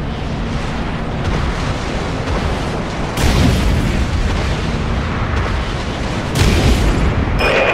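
Bomb weapons explode in a video game, a sustained roaring, rumbling barrage with two sharper, louder blasts punching in midway and near the end over a dense, steady din.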